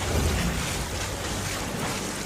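Floodwater filling a village in an animated story, a steady broadband wash of rushing water with low rumble, continuous and fairly loud throughout, no voices.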